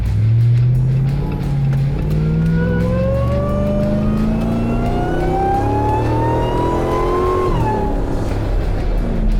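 An 840 HP 2023 AMW Jeep Gladiator Demon accelerating hard, its supercharger whine climbing steadily in pitch over a loud, continuous engine roar before easing off near the end.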